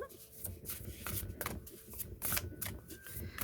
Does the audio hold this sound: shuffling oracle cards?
yes